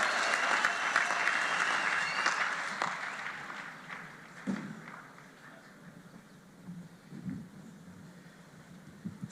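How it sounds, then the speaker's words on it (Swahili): Crowd at a political rally applauds as Kimani Ichung'wah is welcomed, a loud sustained wash of clapping that gradually fades, followed by scattered claps and a low murmur from the crowd. "Tupigie Kimani makofi"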